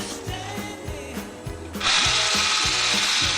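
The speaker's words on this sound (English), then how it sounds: "And I'm going to whisk this." An electric whisk beating egg whites for macaroons, a rhythmic mechanical whirr with regular pulses that jumps to a louder, brighter steady buzz partway through.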